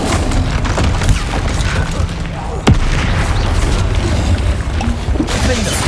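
Confringo spell blasts in Hogwarts Legacy, a dense, continuous booming rumble with a sharp crack partway through and smaller bursts around it, heard close and loud.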